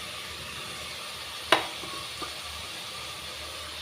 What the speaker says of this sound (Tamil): பீன்ஸ் சேர்த்துக்கிறேன். அது கூடவே குடமிளகாய், கேப்சிகம் சேர்த்துக்கிறேன்.